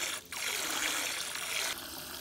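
Water pours steadily into a boat's livewell through a pipe, a continuous bright rushing gush that dips briefly near the start and softens slightly toward the end.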